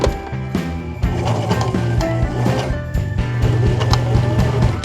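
A sewing machine runs in a steady, rapid mechanical rhythm, its needle clattering continuously at close range with no voices.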